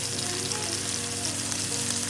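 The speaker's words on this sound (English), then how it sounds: "Get those in the oil, sizzle." Tomatoes sizzling in hot extra virgin olive oil, a continuous bright crackle and hiss at steady volume, close up with no talking.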